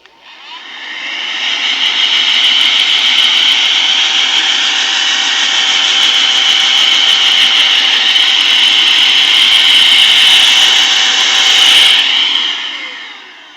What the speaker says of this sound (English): warning for the sound of the blower here